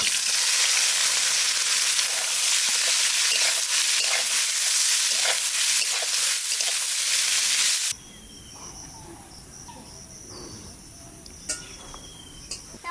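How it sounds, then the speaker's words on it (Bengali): Onions fry in oil for a mutton curry, making a loud, dense hiss of sizzling for about eight seconds before it cuts off to quieter background with faint occasional clicks. "একদম পেঁয়াজ দিয়ে দেবো।"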